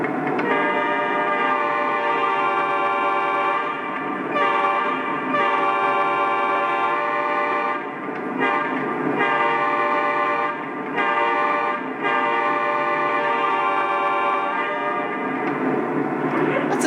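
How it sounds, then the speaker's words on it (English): A loud, steady model locomotive horn, the GE whoop, on a Lionel Legacy BNSF ES44, sounds continuously with brief dips, its rich harmonic tone holding throughout, no talking. "And there you just heard the classic GE whoop sound."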